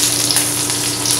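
Curry leaves and finely chopped shallots sputter in hot oil for a Tamil lemon rasam tempering, giving a steady, close, loud sizzling crackle with no talk.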